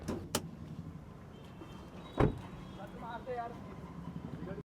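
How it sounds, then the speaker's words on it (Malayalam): A car's engine bonnet is opened at a showroom, giving one sharp, loud metallic clunk midway through, with faint voices and background murmur around it. "എൻജിൻ റൂമും കൂടെ ഓപ്പൺ ആക്കി കാണിക്കാം"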